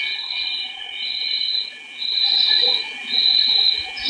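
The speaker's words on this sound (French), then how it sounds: "Ryan, c'est le bruit des grillons là" Crickets chirp in loud pulsing bursts, high trills swelling and fading in a regular rhythm with no voices.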